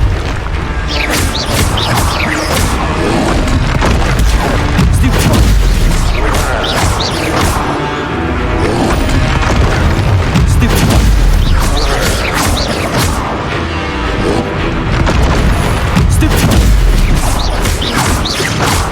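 Confringo fire spells burst repeatedly in Hogwarts Legacy during a spell-casting fight, loud booms and crashes over continuous battle noise, constant and dense throughout.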